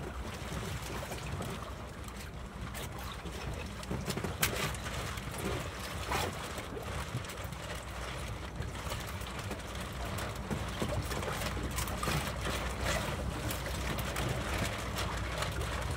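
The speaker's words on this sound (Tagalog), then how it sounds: "Malakas ang alon." Strong sea waves wash around a small fishing boat in rough, changing weather, giving a continuous broadband rush and splashing with irregular surges, steady and fairly close, with no speech.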